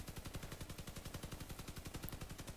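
An M37 Piercer machine gun fires nonstop in the Crossout vehicle combat game, a rapid, even stream of quiet rattling shots at a steady rhythm throughout.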